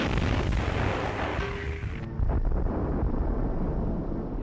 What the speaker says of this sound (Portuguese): Subitamente, o fogo da artilharia intensificou-se ainda mais.